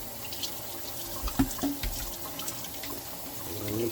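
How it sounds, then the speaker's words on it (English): Tap water runs and splashes as a container is rinsed out at a sink, a steady close wash with a few sharper sloshes and knocks. "Rinse this out real good"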